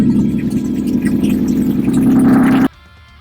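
A 1953 Chevy engine fitted with a four-barrel carburetor, new intake and open headers runs loud and close with a deep, steady throbbing drone that cuts off abruptly near the end.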